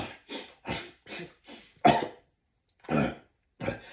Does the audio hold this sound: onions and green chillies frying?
no